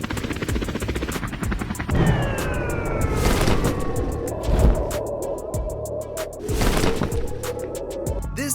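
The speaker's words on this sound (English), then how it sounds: "This one's a simulator game with multi-mission where you can simulate your helicopter flying skill." Helicopter in the Helicopter Flying Simulator mobile game, with a continuous rotor and engine drone, a siren-like sweep and a few booming impacts, loud and steady throughout with no talk.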